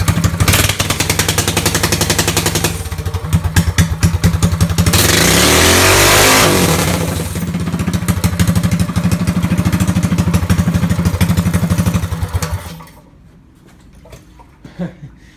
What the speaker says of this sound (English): Just for you guys, I'm going to do a 100 subscriber burnout.